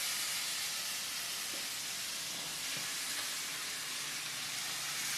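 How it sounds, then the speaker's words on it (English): Fish frying in a pan with butter and shallots gives a steady, even sizzling hiss that holds constant throughout with no talking. "we're going to go ahead and put the fish into the pan"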